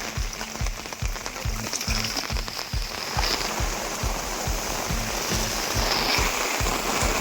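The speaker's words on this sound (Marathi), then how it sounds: "पावसाचा सीझन आहे मित्रांनो" Monsoon rain pours in a steady hiss, with a run of regular low thumps pulsing underneath and no talk.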